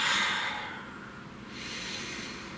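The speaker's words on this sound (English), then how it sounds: "Please take a nice deep breath." A single deep breath, a long airy inhale that fades and swells again into a softer exhale, close to the microphone with no talking.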